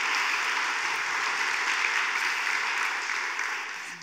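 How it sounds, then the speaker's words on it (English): A round of applause from an audience at a talk on community college students: dense, even clapping that holds steady and then fades slightly at the end. "I want to ask folks to give her a round of applause"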